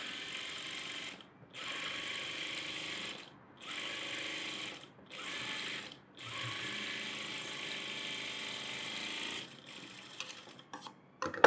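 Sewing machine running in several sustained bursts separated by short pauses, stitching along a marked round neckline on a net blouse, steady mechanical whir close by with no talking.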